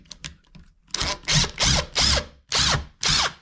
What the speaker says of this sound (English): we can remove the screws holding the faceplate down